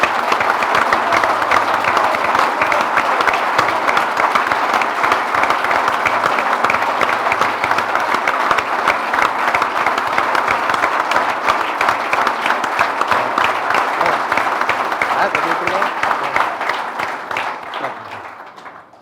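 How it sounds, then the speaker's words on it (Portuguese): A large audience at a club day event in Porto breaks into loud, sustained applause, dense clapping with crowd noise holding steady for about seventeen seconds before tapering off at the end. "uma enorme salva de palmas para este mar azul."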